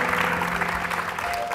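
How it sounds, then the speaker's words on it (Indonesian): Audience applause for a contestant on the Family 100 game show, a short burst of dense, steady clapping from a studio crowd with a faint tonal hum underneath. "Tepuk tangan untuk Adam."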